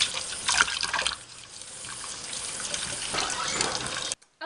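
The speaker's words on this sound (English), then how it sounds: "remember to wash your hands." Hands washed under a running kitchen tap, a steady close splash of water that shifts as the hands move, then stops abruptly at the end.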